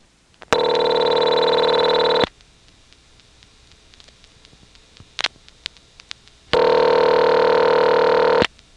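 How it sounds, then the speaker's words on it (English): Telephone ringing on an old independent step-by-step exchange line in Nantes, Quebec, with a phone's tone ringer bleeding through: two loud, steady ring bursts about two seconds long, separated by a quiet gap with faint clicks. "the first ring had a tone ringer from someone's phone actually bleeding through onto the line"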